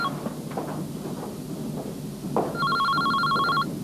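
A telephone rings with a rapid electronic trill that repeats in a steady pulse over the second half of the clip, clear and close, above a low murmuring background.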